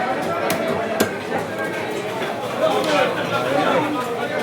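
A fishmonger cuts a large fish at a busy market, with a few sharp chopping knocks near the start over constant crowd chatter and nearby voices.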